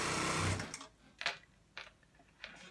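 A sewing machine stitches a small sleeve onto the body of a girl's top in a short burst of close whirring, then stops, followed by a few quiet fabric rustles and handling clicks.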